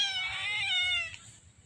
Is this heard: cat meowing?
yes